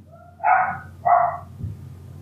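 A dog barks from upstairs in a house, two sharp, fairly loud barks in quick succession followed by a faint thump, with no talking.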